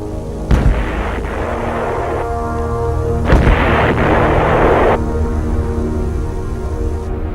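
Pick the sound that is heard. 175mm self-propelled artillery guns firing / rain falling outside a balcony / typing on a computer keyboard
175mm self-propelled artillery guns firing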